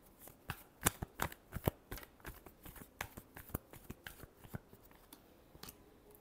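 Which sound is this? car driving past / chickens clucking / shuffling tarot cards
shuffling tarot cards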